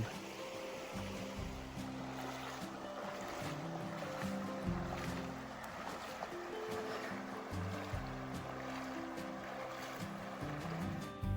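Hikers wade a cold, knee-deep creek in the Sipsey Wilderness, with steady rushing and churning water filling the scene up close, continuous and without talk.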